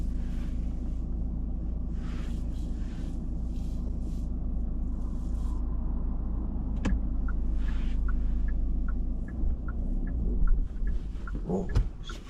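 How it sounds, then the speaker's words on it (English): A car sits idling with the air conditioning running, a steady low engine hum and fan rumble throughout, with a few faint clicks and a brief soft knock near the end, and no one speaking. "Yeah, the car's on. I've left it on so the AC stayed on."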